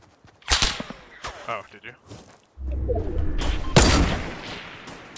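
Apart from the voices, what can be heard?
gunfire in Fortnite video game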